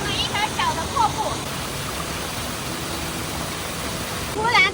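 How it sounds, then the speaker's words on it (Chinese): A small waterfall of clear runoff pouring over a flooded, washed-out mountain road, a soft continuous rushing under brief bursts of birdsong, with a voice speaking faintly at moments. "这里都形成了一条小的瀑布"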